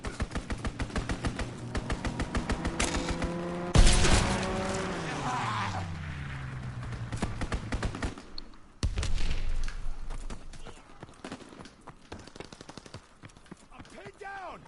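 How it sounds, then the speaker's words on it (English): Rapid strafing gunfire from a fighter aircraft in a video game, loud bursts of repeated shots with a passing engine sweep, amid battle noise and talk. "Fighter aircraft ready. Call for a strafing run."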